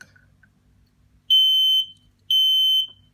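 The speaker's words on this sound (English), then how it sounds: "That's the buzzer." Two loud, steady electronic beeps from an RFID door security system buzzer rejecting a wrong tag, each about half a second, separated by a short gap, close up.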